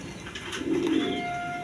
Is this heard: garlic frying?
no